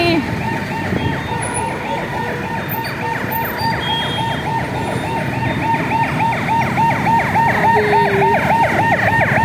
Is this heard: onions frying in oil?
no